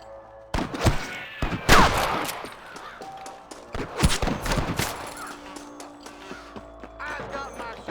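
Sharp rifle and pistol shots crack repeatedly in a sniper shootout in the Red Dead Redemption video game, clustered in bursts with some thuds between, loud and close amid other game sounds.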